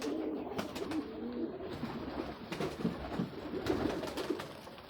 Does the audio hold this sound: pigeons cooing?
yes